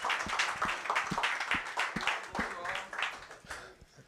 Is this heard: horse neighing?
no